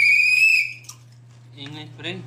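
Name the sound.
someone blowing a whistle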